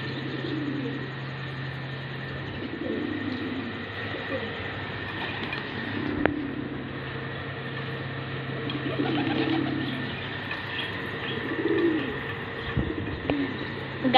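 Domestic pigeons coo in repeated low, soft bursts close by while feeding on grain at their coop, a steady hum and faint background noise running underneath.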